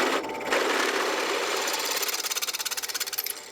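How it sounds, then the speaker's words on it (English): A power drill whines and grinds through the metal of a 2024 Subaru Outback, enlarging a hole to 3/8 inch, the pitch settling into a rapid rhythmic chatter toward the end before stopping. "So I'm going to drill it out to 3/8"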